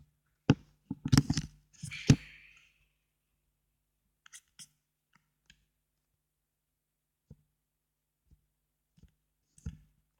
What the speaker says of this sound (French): on va aller couper du bois